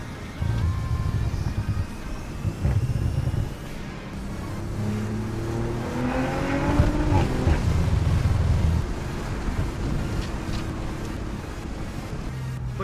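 A 2020s Audi RS5 B9.5 sport coupe with aftermarket downpipes idles and revs outdoors, its exhaust rumbling low and steady with a rising rev around the middle, heard close with some wind noise and no talking.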